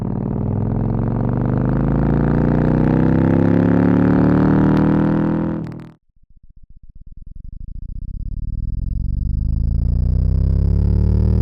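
A simulated one-cylinder engine sound, low-pass filtered, drones loudly with a throbbing tone for about six seconds, then drops to a rapid ticking putter that builds back up as it revs.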